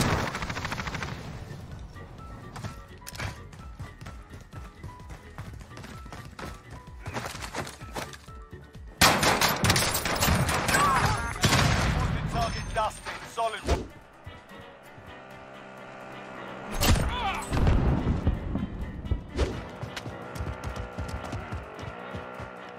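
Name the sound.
gunfire in the video game Warzone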